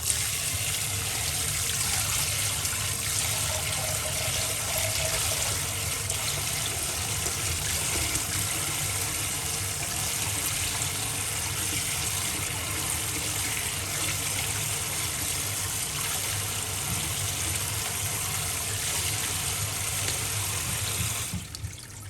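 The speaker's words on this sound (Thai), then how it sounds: "เทใส่กระชอน เปิดน้ำล้างค่ะ" Tap water runs steadily into a strainer to rinse sago pearls in a kitchen sink, a continuous close hiss and splash that never lets up and stands alone with no talk.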